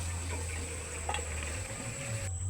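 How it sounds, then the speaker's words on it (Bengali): Chicken pieces sautéing in a pan with potatoes to follow, a soft, steady frying hiss with a faint stirring scrape, fairly quiet and uninterrupted. "আর একটু ভালো করে কষে নেব।"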